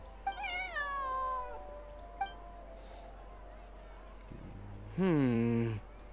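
A cat in the video game Genshin Impact meows twice, a long rising-falling mew at the start and a louder, lower one near the end, close and clear over a faint background hum with no talk.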